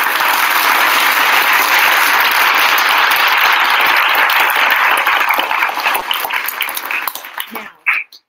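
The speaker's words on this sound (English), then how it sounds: "I got to give this woman a hand clap of praise" Loud, sustained applause and clapping from a studio audience, a dense continuous wall of hands that thins into a few scattered claps and fades out near the end.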